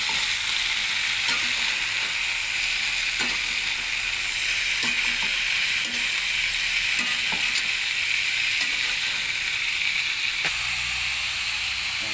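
Bicol Express cooking in a pan, a loud, continuous sizzle and hiss with occasional scrapes and taps as it is stirred.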